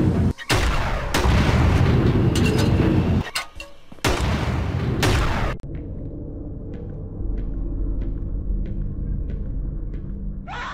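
Rocket launcher blasts in the video game Slendytubbies 3: several loud, booming explosions with heavy low rumble in quick succession, followed by quieter sharp clicks and shots over a steady low drone.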